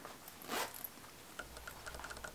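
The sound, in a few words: zippers on a Rebecca Minkoff 5-zip wallet being handled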